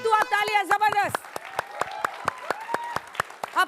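At a televised Bihar political debate, a studio audience claps in a sparse, evenly spaced series of sharp claps, starting under a voice and then carrying on alone at moderate loudness.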